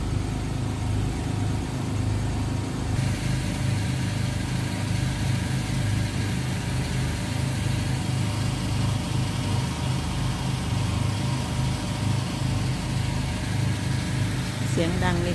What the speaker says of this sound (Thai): เสียงดังในเครื่องปั่นไฟค่ะ